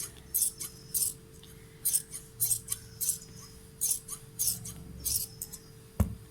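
Scissors make about a dozen rhythmic crisp snips as they cut fabric into strips for a round cord. The snipping is close and evenly spaced, and one sharp knock comes near the end.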